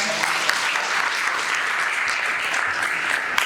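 An audience at an Impact Challenge event gives a sustained round of dense, loud applause, the clapping steady and full throughout.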